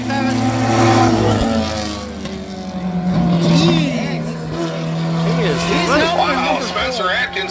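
Race cars at Sandusky Speedway roar off the north end under the green flag in a Renegades bump-and-run race, loud engines revving and rising in pitch as they pass, with an excited announcer talking over them throughout.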